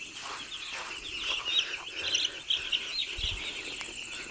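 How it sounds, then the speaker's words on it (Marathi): Broiler chickens packed in a poultry farm shed with the side curtains lowered, giving a steady, dense chorus of high chirping from about 1300 birds that continues throughout with no talking. "हे आपले 1300 पक्षी आहेत"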